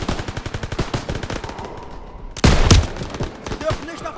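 Rapid machine gun fire rattles in a Call of Duty WWII battle, a fast close stream of shots followed by a heavier blast and scattered bursts.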